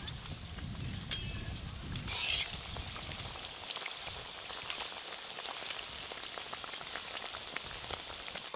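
Potato and onion fritters (aloo piyaji) bubble in hot oil as they float up, a soft, steady crackling patter heard close but quiet, with no talking.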